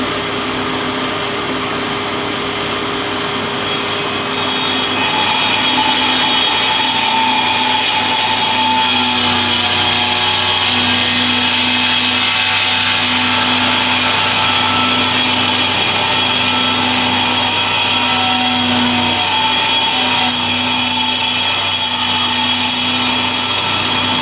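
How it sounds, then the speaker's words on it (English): A Shopsmith multipurpose saw cuts a 25-degree bevel along the edges of a wooden board for a covered platform bird feeder, a loud continuous motor drone with the blade grinding through wood throughout. "I'm going to put an angle on the edges of the board so that they are at about 25-degree angles after I finish this cut"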